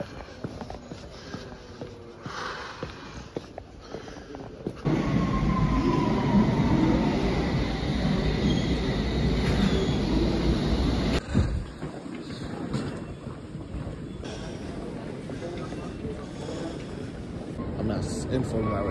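A metro train runs on rails, its steady rumble and roar rising and holding loud through the middle, then continuing with shifting noise, while a person talks over parts of it.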